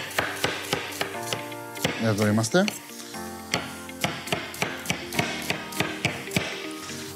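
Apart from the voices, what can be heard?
chopping onion in a kitchen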